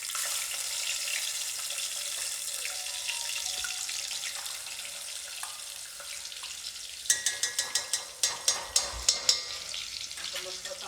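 Masala spices dropped into hot oil for a home-style chicken curry: a steady, low sizzle, joined near the end by a quick series of sharp scraping stirs against the pan, close and fairly loud.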